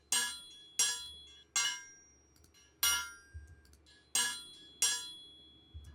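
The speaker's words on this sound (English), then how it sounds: "Some metal impact. Actually, so these anvil hit things," Metal strikes on an anvil ring out as a sound effect, seven sharp, evenly spaced hits, each with a bright, decaying metallic tail.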